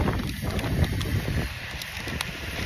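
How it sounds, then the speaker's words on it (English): Wind gusts outdoors at a protest in Ottawa, a continuous buffeting rumble against the microphone that swells and eases slightly over a few seconds. "It's a little bit windy out here."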